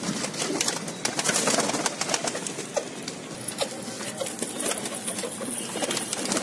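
Border pigeons kept for sale coo steadily amid a busy, noisy bird market background, with overlapping calls and some mechanical whirring throughout.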